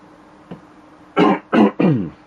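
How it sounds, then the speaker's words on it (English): A person clears their throat in three quick, loud, rasping bursts close to the microphone, after a faint small click, with no speech. "So, clear my throat, have a quick swig of drink."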